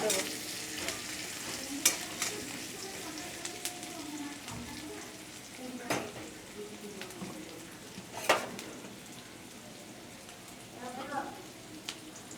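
Onions frying in a pan at home, a steady soft sizzle with occasional scraping stirs of a spatula, close and moderately loud, running continuously with no talk.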